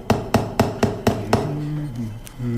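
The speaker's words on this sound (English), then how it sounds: "isn't it a bit dangerous holding the nail steady with your teeth while you hammer it in?" A hammer strikes a nail into a chair in six quick, evenly spaced blows, close and sharp, followed by a brief low murmur with no clear words.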